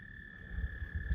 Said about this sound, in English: the frogs or whatever that creature is making that noise over there